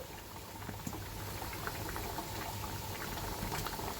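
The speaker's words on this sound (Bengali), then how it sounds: "আর এইদিকে আমার ঝোলটা ফুটে এসেছে" Fish curry broth at a rolling boil in a pot, with a soft continuous bubbling and gurgling texture, quiet and close, and no voices.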